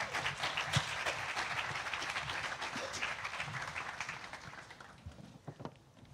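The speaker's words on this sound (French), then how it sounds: "Est-ce qu'on peut les applaudir?" A congregation at an Easter church service applauds guests David and Colette, with steady, fairly dense clapping from a crowd that thins and fades toward the end.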